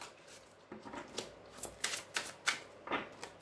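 Tarot cards being shuffled and cut, a run of soft papery riffles and slaps at an uneven rhythm, close and fairly quiet with no talk.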